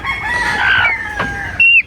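Hens cluck and squawk close by in a quick, busy burst, ending with a sharp high squawk.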